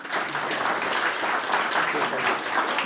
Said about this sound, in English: A round of applause to the panel.